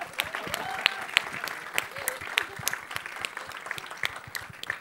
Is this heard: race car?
no